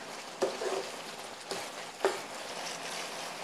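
Sugar cooking in a pan for vegan bagoong made from tofu, a soft steady sizzle with a few faint clinks or stirs, close and quiet, no talking.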